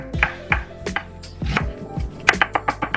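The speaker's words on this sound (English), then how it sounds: "So instead of dicing an onion like this, making one cut, and then dicing these pieces," A knife dices an onion on a cutting board in a run of sharp, close thuds, spaced irregularly at first and then quickening into a tight rapid series of chops near the end, with no talking.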